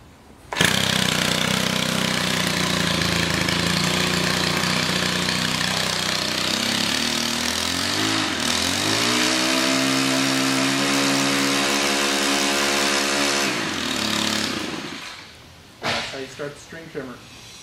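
A gas string trimmer's small engine starts and runs loud and steady at high revs, then drops to a lower chugging idle before shutting off near the end.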